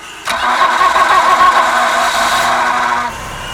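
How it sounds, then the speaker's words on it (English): The engine of a Stingray boat is started after its starter had been underwater. A sudden crank catches into a loud, close running engine that holds for about three seconds before dropping off sharply. "So that's the starter when it's been underwater."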